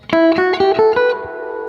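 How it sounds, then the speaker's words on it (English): An electric guitar plays through a 1965 reissue amp with spring reverb: about six clean plucked notes in quick succession, then a final note rings out and fades slowly, loud and close. "have a little bit of the spring reverb on there"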